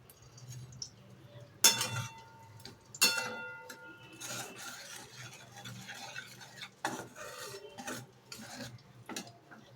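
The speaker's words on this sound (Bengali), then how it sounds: "এবার আমি ভালো করে মশলাটা কষে নেব।" Spice masala with cumin powder and a little sugar being stirred and fried in a pan for a Bengali potato and pointed gourd curry, heard as irregular scraping and clinking of a spatula over a faint sizzle.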